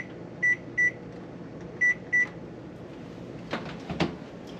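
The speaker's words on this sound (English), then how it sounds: "setting a timer for 33 minutes." An oven's timer is set with four sharp electronic beeps in two quick pairs, followed by a couple of soft clunks and rustles nearby in a quiet kitchen.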